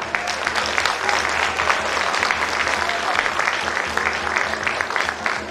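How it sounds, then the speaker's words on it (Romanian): An audience at a Romanian village festival of winter customs and traditions applauds a bear-costume troupe from Dărmănești, dense, steady clapping that carries loud and unbroken throughout. "dați-le aplauze încă o dată"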